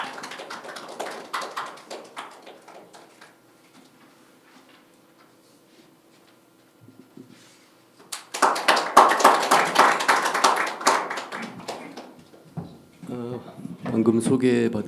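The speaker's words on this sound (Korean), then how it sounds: "박수로 환영해 주십시오" Audience clapping to welcome a professor at a Korean science and technology policy forum, a burst of applause rising after a quieter stretch with a spoken introduction, then giving way to the speaker's voice.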